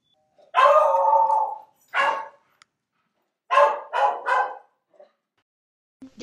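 A Blue Heeler dog barks nearby in loud, sharp bursts: one long bark, a single short one, then a quick run of three, with silence between.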